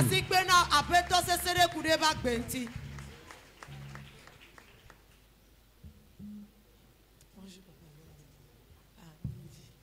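Church congregation applauding loudly for several seconds, dense clapping that fades out into quieter room sounds and a low hum.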